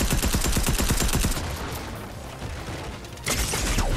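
Rapid gunfire in Fortnite striking the player, a dense burst of sharp repeated shots up close that eases off and then resumes near the end.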